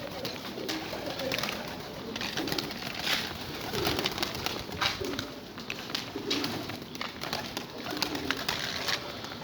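Pigeons coo on a rooftop, a continuous mix of soft, overlapping throaty calls from several birds, close and steady, with no talk.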